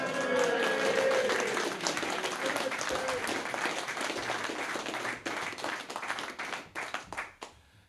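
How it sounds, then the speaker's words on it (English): A crowd at a recovery celebration claps for a birthday, dense applause that holds steady and then breaks up into fewer, scattered claps before fading out, with some voices under it. "Round of applause."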